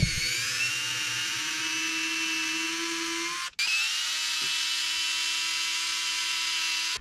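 Power tool driving screws out of the upper control arm on a Redcat Machete RC truck, giving a steady close whine that stops briefly midway and then starts again at a lower, even pitch.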